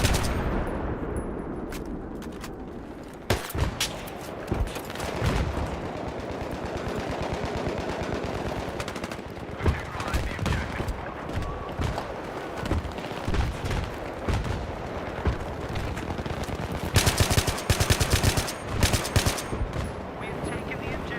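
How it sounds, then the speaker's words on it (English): Sustained assault rifle gunfire in Battlefield 3 on PC, dense automatic bursts and scattered shots rattling continuously across a busy battlefield mix with loud peaks near the end, some faint voices underneath. "The assault rifle that made so many cry."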